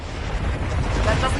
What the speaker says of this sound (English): that certainly looks like a good spot for an explosion.